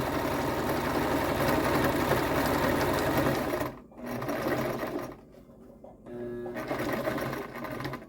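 A sewing machine runs fast and loud, stitching and back stitching a pillow made from Dollar Tree drying mats. Steady whirring holds for about four seconds, breaks off, then resumes in two shorter bursts with brief pauses between.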